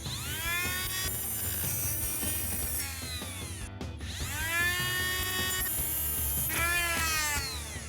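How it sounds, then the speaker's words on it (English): An electric cutting tool cuts through a wheel stud on a Ram 1500, whining loudly with pitch sweeps as it bites into the metal, pausing briefly and then resuming. "we're gonna actually switch to an electric one to make this cutting a little bit easier"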